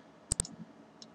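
Two quick computer mouse clicks sound close together, crisp and near, with a fainter click following about half a second later in a quiet room.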